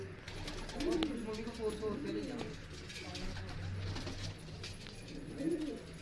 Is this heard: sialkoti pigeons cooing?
yes